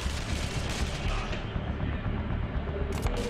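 Gunfire in the tactical game Breach & Clear: Deadline Rebirth, a dense, continuous wall of shots and noise filling the whole stretch at steady loudness, with no clear gaps between bursts.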